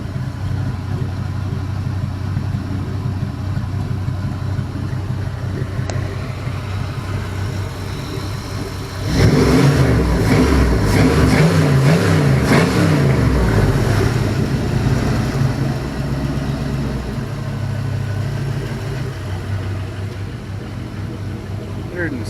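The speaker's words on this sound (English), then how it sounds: "Man, that exhaust sounds good." Used LM7 5.3L LS V8 with an LS1 cam, new crank and bearings, idling steadily with exhaust note, then revving up loudly around the middle before settling back to a rumbling idle; nearby voices murmur faintly.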